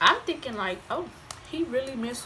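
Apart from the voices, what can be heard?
No everyday noises stand out.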